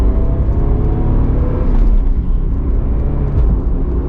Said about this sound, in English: So we're gonna get our little acceleration here with the Supra.